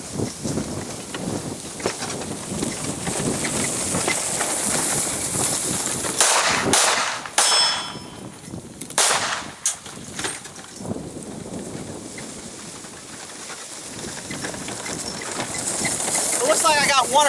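A handgun fires from a golf cart moving toward an outdoor target, with a few sharp, loud cracks clustered in the middle over constant rushing wind noise.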